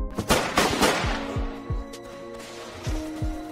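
Rapid video-game gunfire in an attack on a bandit base, sounding as loud, close bursts of shots that shift into a slower run of individual echoing cracks.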